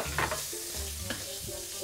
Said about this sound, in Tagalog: So tutunawin lang natin tong butter na to.